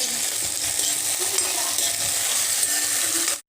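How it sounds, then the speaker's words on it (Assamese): Chopped onion frying in oil in a pan as tomato is added, a dense continuous sizzle with faint stirring scrapes, close and steady before cutting off abruptly at the end. "এয়া মোৰ এতিয়া পিয়াজখিনি ভাজি হৈ গ'ল আৰু ইয়াত দিছো এতিয়া মই বিলাহী।"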